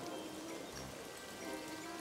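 Rain starting to fall outdoors on a sunny day as clouds gather, a soft steady hiss of raindrops on surfaces with no talking, filling the short moment evenly.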